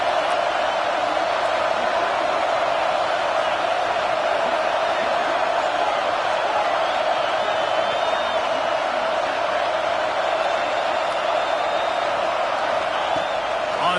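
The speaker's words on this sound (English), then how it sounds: "Listen to this crowd just shaking the girders of this place" A stadium crowd at a Penn State football game roars continuously and densely for the whole stretch, a loud, unbroken wall of cheering with faint whistles riding on top.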